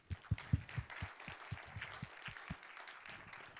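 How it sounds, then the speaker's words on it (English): Applause for a speaker at a software conference, heard as a short run of separate, fairly quiet claps that thin out and fade within a few seconds. "Please give a big round of applause for Christian Barra"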